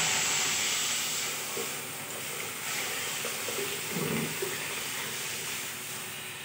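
Boiled red lentils poured into hot oil spiced with chili and turmeric hiss and sizzle in a steady, fairly quiet wash, with brief bubbling spurts.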